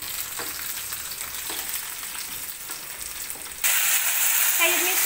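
Browned onions and chillies frying in a pan for a cauliflower Manchurian, a close steady sizzle with faint stirring scrapes that jumps sharply louder near the end as the mix is stirred.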